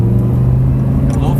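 Audi R8 engine droning loud and steady from inside the car as the throttle opens, a low sustained hum with road rumble, and a voice speaking over it.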